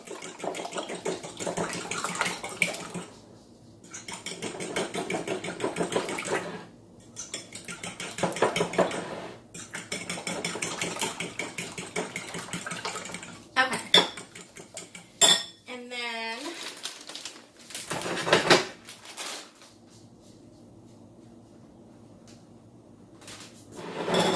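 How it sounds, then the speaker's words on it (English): Eggs and heavy whipping cream are whisked in a bowl, giving rapid, close metallic clatter in several bursts separated by short pauses, with clinks and a squeaky scrape near the end. "So I am whisking that up right now."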